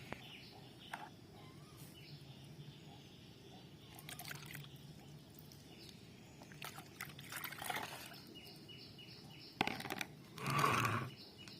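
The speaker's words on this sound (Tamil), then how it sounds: "இப்போ வந்து இதை நம்ம ஒரு வடிகட்டி வச்சு தண்ணியை மட்டும் வடிச்சிட்டு எடுத்துடலாம்" Water draining from brinjal seeds through a strainer, a faint trickle and scattered drips against quiet background hiss, with a brief louder pouring burst near the end.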